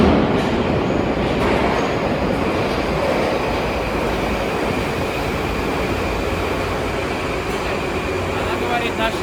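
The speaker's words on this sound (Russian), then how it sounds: "Вон электричка идет." An electric commuter train rumbles past with a steady, broad roar and rattle of wheels, close and loud throughout, with faint voices underneath.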